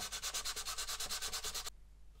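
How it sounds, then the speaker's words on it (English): Loose sandpaper rubs back and forth across the wing of a 1/72 scale Avro Vulcan B.2 plastic model kit, about a dozen quick, even rasping strokes close by before stopping. "it's much easier to feel where you're going with some loose sandpaper here"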